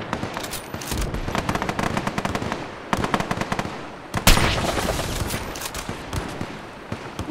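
Rapid automatic gunfire in the Fallout 4 video game, dense bursts of loud, close shots that pause briefly and resume, ending in a heavy blast followed by more rattling fire.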